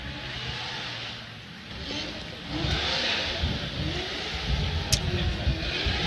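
A Formula Drift competition car at a New Jersey qualifying event accelerates through the gears, its engine note climbing in rising sweeps with brief shift breaks, heard at a distance under crowd and track ambience.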